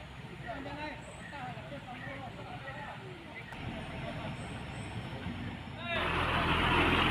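A heavy CPO tanker truck's engine strains as it tries to pull an overturned truck upright on the steep Sitinjau Lauik mountain road. A steady, loud diesel rumble runs under voices and swells louder near the end.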